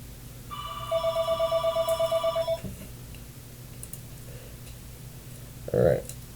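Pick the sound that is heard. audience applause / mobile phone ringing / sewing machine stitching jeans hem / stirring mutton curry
mobile phone ringing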